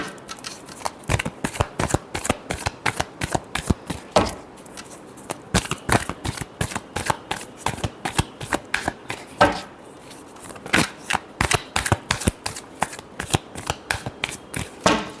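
Tarot cards riffle and snap in a long, fast shuffle, a dense run of sharp crisp flicks close by with brief pauses, no voice over them.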